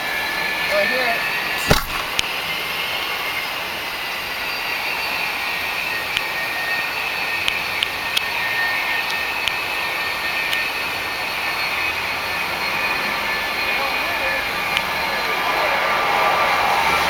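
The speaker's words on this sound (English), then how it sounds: "Or maybe there was a plane coming in." Airplane jet engine roaring steadily in the rain, a loud continuous rushing drone with a high whine, heard from indoors with a few sharp taps and a thud.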